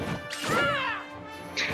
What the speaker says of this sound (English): he gets hit by another fair one S smash by Kirby